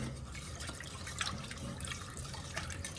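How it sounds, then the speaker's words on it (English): Regular tap water poured from a cup into a pot while stirring strawberry pie filling, a continuous splashing, trickling pour with small clinks and drips. "I have 2 cups of water, and I'm going to pour the water into this as I stir it."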